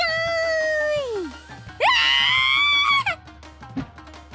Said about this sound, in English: She shrieks in vain as my parents make her their plaything.